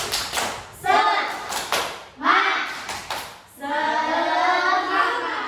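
A classroom group claps out a rhythmic cheer, with sharp bursts of clapping between short shouted chants from the voices.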